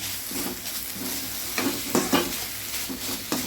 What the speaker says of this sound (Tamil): பெப்பர் கொஞ்சம் போட்டுக்கிறேன். இது நல்லா கலந்து விட்டுட்டு ஸ்டவ் ஆஃப் பண்ணிக்கலாம்.